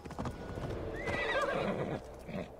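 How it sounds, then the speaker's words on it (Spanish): In Assassin's Creed Valhalla, a horse's hooves clip-clop steadily at a gallop and the horse lets out a loud whinny midway, close up with no speech over it. "Salta, caballo."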